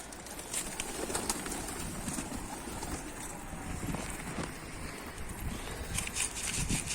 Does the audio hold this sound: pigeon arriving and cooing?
yes